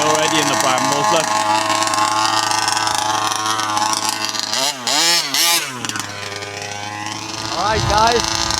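A large gas-powered RC car's loud, buzzy small engine runs steadily through a raspy aftermarket exhaust, with a couple of sharp revving surges partway through, close by, outdoors among brambles.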